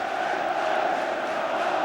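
Dense, steady roar of a large football stadium crowd at a League One play-off semi-final between Leeds and Carlisle, a continuous wash of massed voices and chanting with no gaps.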